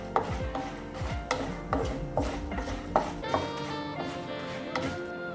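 A spatula scrapes and taps rhythmically in a pan while turmeric, chili and coriander powder are stirred together for a bean curry, repeated sharp strokes roughly every half second, close and fairly quiet.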